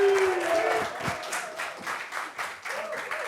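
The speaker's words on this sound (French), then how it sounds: "Applaudissements pour Audrey." A studio audience applauds during a French-language dating show gathering, a short burst of clapping with bits of talk and a pitched tone at the start, fading and swelling again.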